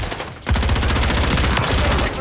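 Rapid automatic gunfire from a Modern Warfare 3 multiplayer match on PS5 rattles in a dense, loud, continuous burst after a brief lead-in, close and punchy with no talking.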